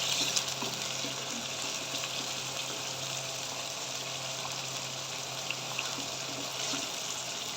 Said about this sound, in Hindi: और इसको अच्छे से करेंगे फ्राई। जब तक गोल्डन कलर ना आ जाए।